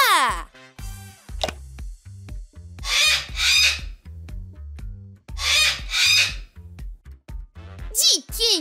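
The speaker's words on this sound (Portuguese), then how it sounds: "Esse é o som da cacatua!" Cockatoo calls in an animated children's cartoon, harsh raspy squawks in loud bursts over a bouncy musical backing, repeated several times.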